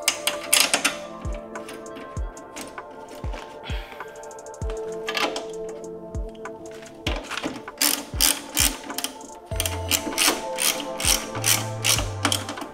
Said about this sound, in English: you want to secure the radiator brackets with the two 12 millimeter bolts